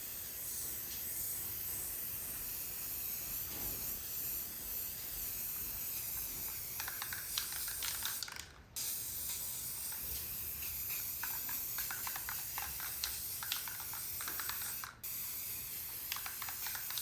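Spray paint hissing steadily from a can onto reclaimed wood over a stencil, close and continuous, broken by two very brief pauses.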